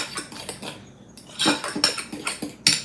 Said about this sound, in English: Okay, so we're gonna give that a mix.